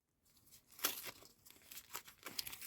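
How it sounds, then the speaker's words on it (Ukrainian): A paper surprise packet being carefully opened, with a run of crisp tearing and crinkling bursts, close and fairly quiet, and no talk over it. "Ось такий пакетик. Давайте обережно взаді відкриємо."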